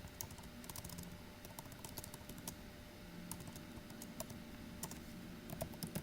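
Computer keyboard typing during a shell programming lesson, a steady stream of quick, light key clicks over a constant low hum, entering a few short characters at a terminal.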